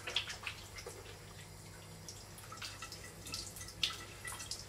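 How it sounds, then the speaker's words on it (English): Water drips and trickles from hands in a sink setting during a facial skincare routine, faint, with irregular small splashes over a low background hum. "Just take a little bit of water in your hands"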